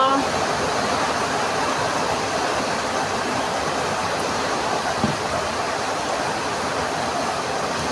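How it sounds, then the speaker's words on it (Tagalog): Dense, steady broadband wash of heavy rainfall, loud and continuous throughout with no gaps or distinct voices. "Lakas ng ulan ngayon."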